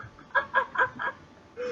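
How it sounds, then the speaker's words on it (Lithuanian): Chickens give a run of four quick, bright clucks in a row, then a short pause and one longer, lower call, close by and with no talk. "Baikit gaidžiai."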